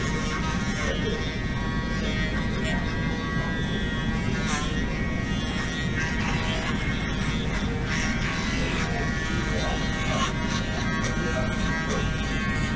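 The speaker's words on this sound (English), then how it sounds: "I like to use my shaver first to kind of make my job a lot more easier" An electric foil shaver buzzes steadily and loudly at close range in a barbershop, working over loose hairs while cutting a taper fade, one continuous droning hum.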